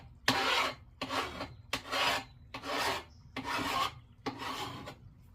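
A metal file with aluminum buildup rasps the edges of an aluminum piece in six long, even strokes, each a loud gritty scrape separated by short pauses.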